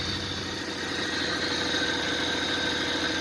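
A four-year-old car's engine idles steadily during an alternator and battery check. The hum is continuous and even, with nothing else heard.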